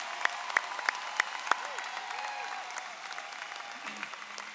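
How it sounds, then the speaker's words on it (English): An audience at a University of Illinois Chicago College of Education spring commencement claps steadily. A few sharp claps stand out at first, then the applause settles into a dense, even wash of many hands. "Please give them a round of applause."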